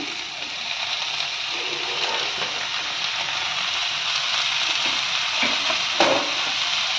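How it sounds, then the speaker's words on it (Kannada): Tomatoes sizzle and fry in a pan with onion and green chillies for a raw tomato chutney, a continuous dense hiss with stirring scrapes and a brief louder clatter near the end, no talk. "ಅದು 2 ನಿಮಿಷ ಆದಮೇಲೆ ಟೊಮೊಟೊ ಹಾಕೋತಾ ಇದ್ದೀನಿ"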